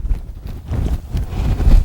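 A horse moves at a big, loose walk, its hooves clip-clopping in a steady, uneven rhythm close by, with light wind noise and no voices.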